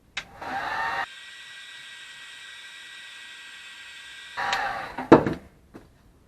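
Heat gun blowing a steady hiss onto glued foam padding inside a Cooper SK2000 hockey helmet, running about three seconds between louder handling scrapes and knocks.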